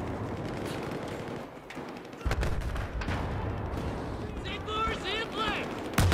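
Bursts of FDL machine gun fire with a bipod in a Battlefield 4 match, loud and close amid explosions and battle noise, with players talking over it.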